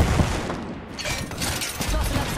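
Rapid, dense bursts of automatic gunfire crackle through a firefight in the video game Apex Legends, loud and close, with small gaps between volleys.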